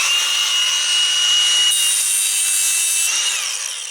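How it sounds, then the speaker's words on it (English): A Milwaukee power cutting tool bites through trailer wiring with a loud, close, high-pitched grinding whine that holds steady for about four seconds, shifts tone partway through, then fades slightly at the end. "It's great at cutting trailer wiring."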